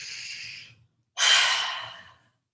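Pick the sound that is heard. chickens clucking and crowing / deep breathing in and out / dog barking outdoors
deep breathing in and out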